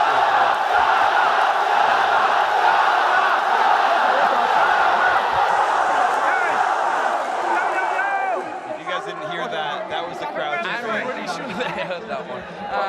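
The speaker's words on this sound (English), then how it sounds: "The crowd loves it." A large crowd at the 2013 All-Stars esports final in Shanghai, Korea vs China, roars and chatters steadily throughout, loud but partly beneath commentators talking over it.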